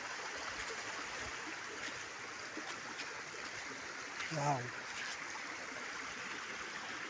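A hidden spring's water running down a small stream makes a steady, soft rushing flow throughout, with a brief exclaimed voice partway through.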